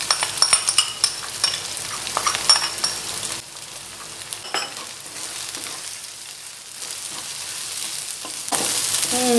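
Dried shrimp stir-fried in a pan for a taro stem side dish, sizzling steadily with a spatula scraping and clinking against the metal, louder at first, then settling into a quieter crackle before a burst of sizzle.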